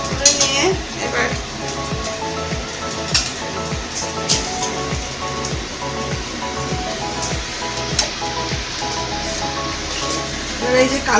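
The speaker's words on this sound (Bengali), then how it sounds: "এই যে কালো জিরে ফোড়ন দিয়ে দিচ্ছি এই তেলের মধ্যে।" Nigella seeds (kalo jeere) tempering in hot oil for a Bengali curry, a loud dense crackling sizzle running throughout with repeated sharp pops and spatters, close up.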